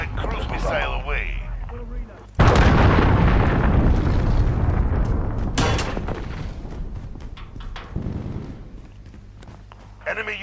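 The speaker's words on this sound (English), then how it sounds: "Allied cruise missile away." A cruise missile killstreak in Call of Duty Modern Warfare strikes with a sudden loud explosion that rumbles and decays over several seconds, then smaller blasts follow, with voice announcements heard underneath.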